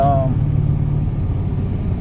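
Engine of an EK hatchback with an H2B engine swap, running steadily at idle with a low, continuous rumble and a short tonal whine at the start, close and loud.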